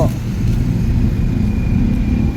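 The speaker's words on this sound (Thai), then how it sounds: "มาแล้วรถบัสมาแล้ว" A tour bus for a touring stage-show crew pulling in, a loud, close and steady low engine rumble with wind noise throughout.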